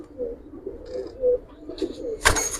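Giribaz pigeons, a silver and old-breed line, coo softly in a loft with a few low repeated calls, ending on a brief sharp clatter near the close.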